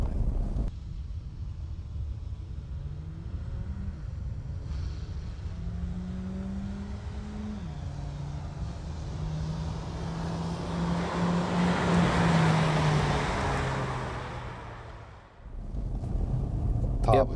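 A car with a 1.4-litre turbo engine and DSG twin-clutch gearbox revs up hard as it pulls away, pitch climbing through gear changes with wind noise, then drops off sharply near the end.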